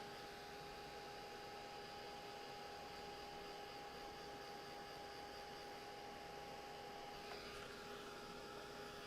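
A hair dryer blows over wet paint, a faint, steady whooshing hum with a constant whine that runs unbroken from start to finish.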